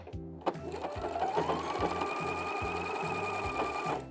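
A sewing machine stitches a welt pocket, running in quick even bursts with a rhythmic mechanical chatter and a steady whirring motor, close and clear with no talking.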